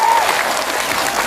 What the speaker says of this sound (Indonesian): Tepuk tangan untuk Ibu Khofifah Indar Parawansa